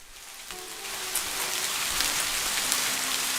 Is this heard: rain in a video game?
yes